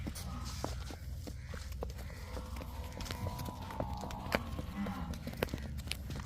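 A cow being led on foot around a farm yard, with scattered soft hoof steps and shuffling over low rural background noise, faint and intermittent.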